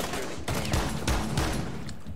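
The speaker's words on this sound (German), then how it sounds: "du lädst eins nach und schießt" Gunfire after a reload in the game Rainbow Six Siege: a rapid fusillade of loud, sharp shots packed into a couple of seconds, close and dense.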